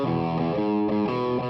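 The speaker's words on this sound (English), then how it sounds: "That broken up guitar sound is what we call overdrive or distortion" Overdriven, broken-up electric guitar tone from a burst amplifier speaker cone, a short sustained phrase of buzzing, distorted notes played loud and alone.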